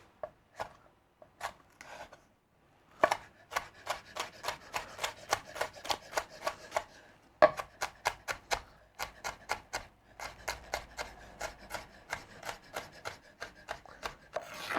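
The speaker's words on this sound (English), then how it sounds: "we're gonna dice so fine" A knife finely dices ingredients for Venezuelan fosforera seafood soup: a few sparse taps, then a long, brisk and even run of sharp chopping strokes on a board, close and clear with no talking.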